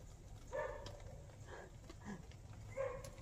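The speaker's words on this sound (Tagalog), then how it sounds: "Tumatahol yung aso." A dog barking in the distance, a few faint separate barks spaced irregularly over a quiet background.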